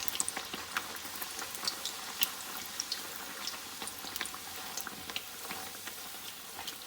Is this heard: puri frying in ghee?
yes